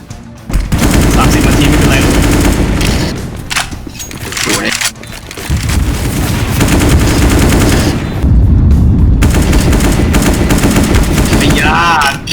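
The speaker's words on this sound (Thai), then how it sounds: "การยิงของมึง" Loud, rapid automatic gunfire in the video game Counter-Strike: Global Offensive, rattling in long sustained bursts with brief gaps, while players talk excitedly over it.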